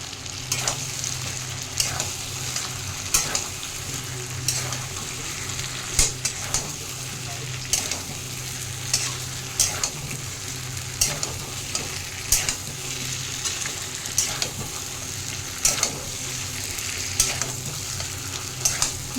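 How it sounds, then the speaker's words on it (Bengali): Potato pieces fry in hot oil and spices for an egg curry, a steady close sizzle with regular scraping stirs of a spoon against the pan. "এবার আমি আলুগুলো দিচ্ছি"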